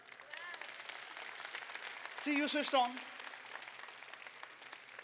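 A short burst of audience clapping in a lecture hall on Jain practices, brief and light, mixed with a speaker's voice talking over it.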